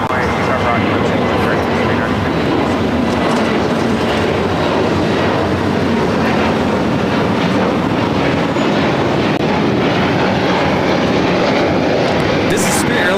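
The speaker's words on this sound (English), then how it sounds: "This is Spirit Airlines 468 taking off to San Jose, California on the A320neo" A Spirit Airlines A320neo takes off at LAX, its jet engines producing a loud, continuous broadband roar that holds steady throughout, with voices talking faintly underneath.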